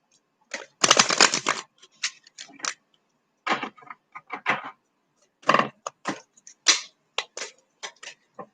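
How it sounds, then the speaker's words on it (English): Tarot cards shuffled by hand, a dense riffling burst near the start followed by scattered short flicks and taps, close and fairly quiet. "So now we're going to draw tarot cards"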